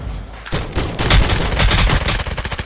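Rapid bursts of gunfire in the video game Contractors Showdown, dense overlapping shots building into a loud, sustained rattle of automatic fire near the player.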